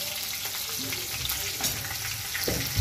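Sliced green chillies, curry leaves and fenugreek seeds fry in hot oil, a steady close sizzle broken by scraping stirs of a spoon against the pan.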